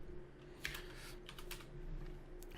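Close-up typing on a computer keyboard: a scattered run of soft, quick key clicks over a steady low hum, with no talking.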